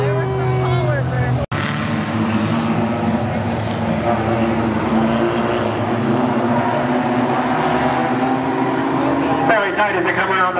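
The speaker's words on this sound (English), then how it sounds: "you'll hear those engines come up a little bit now" Hornet-class race cars lap an oval dirt track at Agassiz, their engines droning as a steady, mid-distance roar that swells and fades as the field passes. A track announcer talks over part of it.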